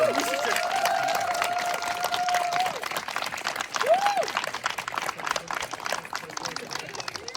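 An audience at a corporate team-building event claps for the second group, a dense, fairly quiet patter of hands that rises and then thins out, with a few whistles and voices mixed in.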